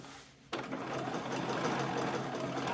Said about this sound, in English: I'm just going to stitch along here